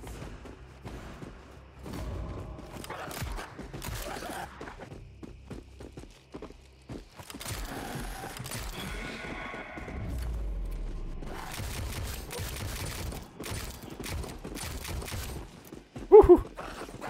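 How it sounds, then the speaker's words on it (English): Footsteps move around the player in the horror game SKER Ritual, soft repeated thuds under dense game noise, rumbling effects and scattered impacts, with a loud thump near the end. "I hear footsteps all around me."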